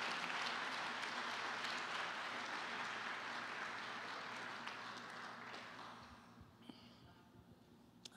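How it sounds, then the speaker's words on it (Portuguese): A church congregation applauds in a broad, steady wash of clapping that slowly thins and dies away, leaving a quiet room with a few faint sounds. "aplauda o Senhor Jesus"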